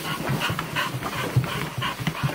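Small dog panting hard after running with a new toy: quick rhythmic breaths, close and steady, with no talk over them.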